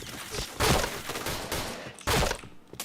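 Video game gunfire rattles off in quick bursts, with two dense volleys of rapid shots set against faint background game noise.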